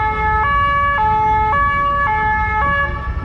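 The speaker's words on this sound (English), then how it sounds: "Another whole line of police cars is moving in." Police car sirens at a Paris protest wail in a loud, steady two-tone pattern, switching between high and low pitch roughly every half second, close and constant with no speech.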